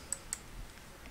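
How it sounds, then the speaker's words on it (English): A computer mouse clicks on a drop-down menu in asset-tracking software, two quick faint clicks close together over a quiet hiss. "This can be done again by clicking on the drop-down menu and selecting that asset from the list"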